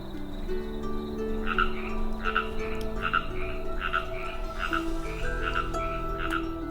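Frogs croak in a repeating, evenly spaced rhythm, about one call each second, over a low steady hum and faint background tones.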